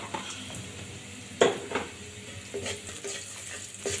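Bottle gourd peel fries with turmeric and salt in a pan, a low sizzle broken by a few sharp scrapes and clinks of a spatula stirring against the metal.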